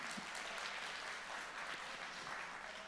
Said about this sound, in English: another applause, the round of applause for Andy Tran